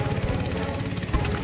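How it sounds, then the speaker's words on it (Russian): Helicopter in the video game Unturned, a steady low rotor thrum with layered engine drone filling the short stretch at moderate loudness, without speech over it. "Какой-то вертолет наш"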